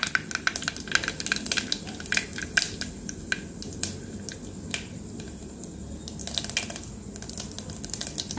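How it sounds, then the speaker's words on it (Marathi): Mustard seeds and cumin crackling in hot oil while making Vidarbha-style chunvadi curry, with rapid sharp pops and spits over a steady sizzle, close and busy throughout. "आपली मोहरी तडतडली की त्यानंतर त्याच्यात जिरं टाकून द्यायचं आहे।"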